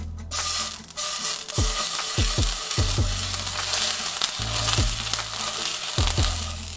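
Oxtail searing in an overly hot, smoking pan, a loud, close, continuous sizzle with repeated clinks and scrapes of the meat and utensil against the pan.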